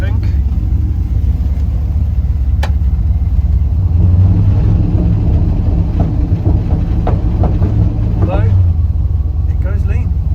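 An LS-swapped second-generation Firebird with a carburetor rumbles loudly nearby, its engine note rising briefly as the throttle is blipped, while people talk over it.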